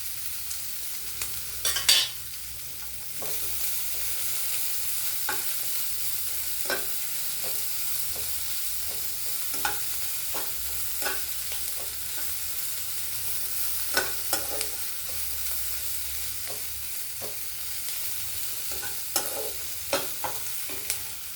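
Ginger garlic paste sizzles and fries steadily in a pan for a traditional Telugu okra curry, with frequent light clinks and scrapes of a stirring spoon over the constant hiss, no voices.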